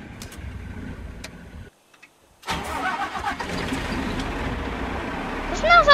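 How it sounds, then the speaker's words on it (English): A computer graphics card runs with a rough, engine-like roar that starts after a moment of silence and builds steadily, loud and close. "Doesn't that sound like an engine? That does sound like an engine. But this is a GPU we're talking about."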